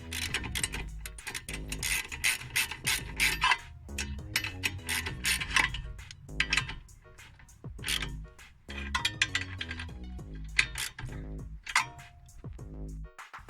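A ratchet wrench tightens brake caliper bolts, producing close, rapid bursts of clicking in irregular runs with short pauses between strokes.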